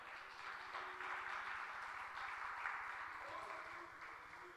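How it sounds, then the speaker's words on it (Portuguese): A church congregation applauds together in a steady, continuous wash of clapping that holds for several seconds, moderately loud and slightly fading at the end. "Vamos aplaudir a Deus pela vida dele."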